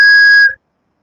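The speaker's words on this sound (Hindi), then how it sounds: "फिर से किसी की सीटी बज रही है।" One loud, steady whistle blast holds a pure shrill tone for about half a second, then stops abruptly into silence. It sounds close and is heard alone.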